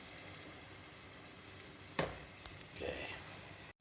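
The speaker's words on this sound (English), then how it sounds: "Okay, they're sizzling here." Onions and garlic sizzle in oil in a pot for a beef vegetable soup, a soft steady crackling hiss with a couple of brief stirring clatters.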